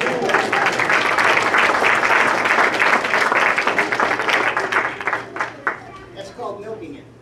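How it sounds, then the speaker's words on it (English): Audience applause at a magic show, a dense, steady patter of many hands clapping that holds strong for several seconds before thinning into scattered claps. "if that isn't a cue for one final round of applause"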